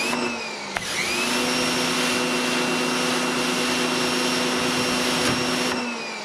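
A Portland pressure washer from Harbor Freight sprays a straight stream, its motor droning loud and steady close by for several seconds with a constant high whine, starting up at the beginning and winding down at the end.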